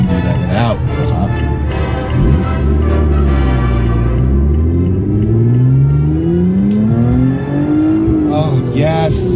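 Lotus Evora with a naturally aspirated 2GR-FE engine revving loudly through the gears, its pitch climbing repeatedly toward red line in steady, sweeping pulls heard from inside the car on a cold, wet road; a voice speaks over the engine.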